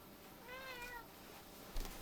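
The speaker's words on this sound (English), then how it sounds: "My cat wants to get up in my lap when I'm trying to work." Domestic cat giving a single short, soft meow indoors over a faint background hum.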